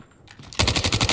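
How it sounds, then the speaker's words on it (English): Rapid automatic gunfire from a deployed sentry gun in a first-person shooter, a dense burst of loud, evenly spaced shots that kicks in after a quiet half second and keeps rattling steadily to the end. "Sentry gun deployed."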